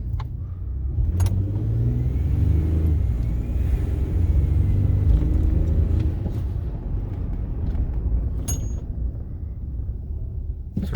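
A Ford F-150 pickup, 2009–2014 generation, accelerates steadily with a loud, close engine rumble that builds and holds for several seconds, then eases slightly, with faint clicks on top and no talking.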